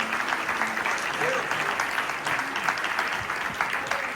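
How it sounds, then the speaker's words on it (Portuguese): A church congregation applauds together, a steady dense wash of clapping filling the space, with scattered voices mixed in underneath. "Dê uma salva de palmas ao Senhor."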